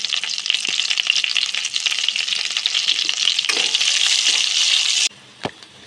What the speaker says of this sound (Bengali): আমাদের রসুনটা হালকা লাল লাল করে ভাজা হয়ে গেছে